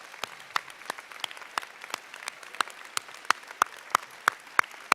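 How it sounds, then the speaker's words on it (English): Sparse applause at a state championship celebration, a few distinct hand claps ringing out in a fairly regular rhythm over a thin bed of quieter clapping, faint and somewhat distant. "Ladies and gentlemen, can we give them a big round of applause?"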